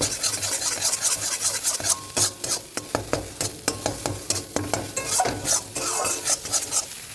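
Ridge gourd peel and peanut paste frying in mustard oil in a wok, with repeated scraping stirs of a spatula over a soft sizzle, close and rhythmic with no voices.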